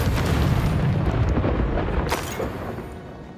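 Confringo explosion spell in the video game Hogwarts Legacy, a loud roaring blast that rumbles and fades over a few seconds, with a sharp crackling burst near the end and no talk.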